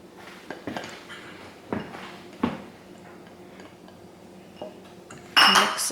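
A utensil clinks and scrapes in a bowl while mixing vegan, oil-free corn bread batter, giving scattered light taps and knocks close by, with a sharper burst of clatter near the end.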